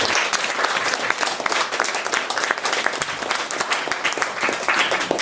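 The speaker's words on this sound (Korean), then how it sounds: "정말 잘 들리게 해주신 우리 이미경 교수님 다시 한번 큰 박수 부탁드립니다" Audience applause after a concert piece at a hanok music concert, dense sustained clapping from a crowd, steady and fairly loud throughout.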